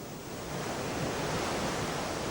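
Steady, loud ocean surf and wind rush around a ship stranded on the coast of Madagascar, a constant broadband roar with no pauses and no voices.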